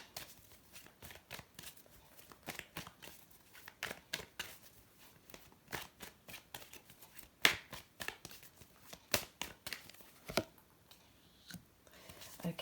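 Tarot cards shuffled by hand, with repeated soft riffling and flicking bursts close by and fairly quiet, scattered crisp snaps and slaps between them and no talk.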